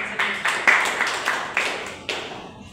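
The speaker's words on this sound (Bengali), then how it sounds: "হাততালি সবাইকে।" A seminar audience claps in a slow, roughly even rhythm, about one sharp reverberant clap every half second, moderately close in a quiet room.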